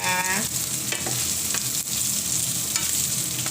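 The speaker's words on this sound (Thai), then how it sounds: "เมนูข้าวผัดนะคะวันนี้ ผัดข้าวให้คุณป๋านะคะ" Fried rice with carrot and mushrooms being stir-fried in a pan makes a loud, constant sizzle, with a ringing metallic clang at the start and occasional spatula scrapes.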